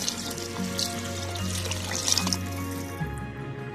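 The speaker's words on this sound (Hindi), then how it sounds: "मैं ये 3 गिलास पानी डाल दूंगी इसके अंदर" Water is poured into a pot of pea and potato pulao after the pan has cooked dry, a steady wash of liquid running for several seconds over a low kitchen hum, close and moderately loud, with no talking.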